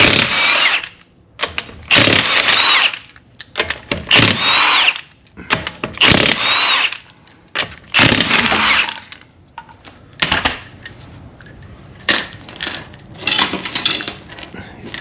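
Tool clatter and short powered bursts from removing a front wheel on a 2008–2012 Honda Accord with an impact wrench, loud and close in a garage, coming in repeated bursts separated by clanks and handling noise.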